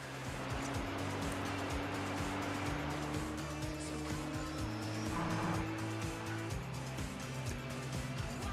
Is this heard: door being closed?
no